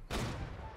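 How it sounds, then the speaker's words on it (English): Massed musket gunfire crackles in the Napoleonic-era battle game Holdfast: Nations At War, with nearly a hundred players fighting; a dense, loud burst of overlapping shots starts abruptly and rolls on as a sustained fusillade. "And you can see all the firing."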